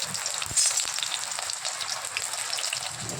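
Eggplant slices fry in a small amount of oil in a wok, giving a steady close sizzle with scattered crackles and pops, and no voices.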